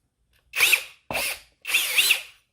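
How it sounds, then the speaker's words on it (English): A brushless cordless power drill whirs in three short bursts, each spinning up and winding down, close and loud with nothing else around it. "A lot of loud, pretty loud drill here."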